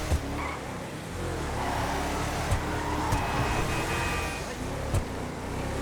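An off-road vehicle in GTA 5 Online drives with a steady loud engine drone and a few brief sharp knocks or bumps along the way.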